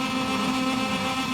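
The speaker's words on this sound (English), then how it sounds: "Clutch in, revs up." A racing motorcycle engine in the video game MotoGP 21, a Moto2 bike on the grid at the Japanese GP, drones loudly and steadily at high revs for a brief moment.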